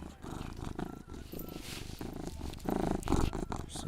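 A person imitates a cat purring close into a microphone, a steady, rumbling, rolling purr that continues for several seconds with brief breath breaks, swelling louder near the end.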